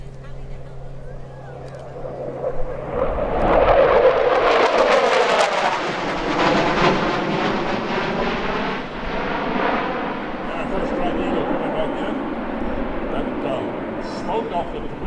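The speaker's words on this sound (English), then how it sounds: "as the crew pulled a number of G's there as they rack around in a 180-degree turn, slowing the airplane down" An F-15E military jet pulls a high-G 180-degree turn at an airshow, a loud, roaring rush that swells quickly and then rumbles on as it slows, heard behind a public-address voice.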